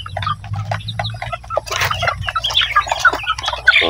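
A flock of upgraded native chickens about two and a half months old clucks and chirps up close. Overlapping short calls grow busier and louder over a few seconds, with a low hum beneath them and no voices.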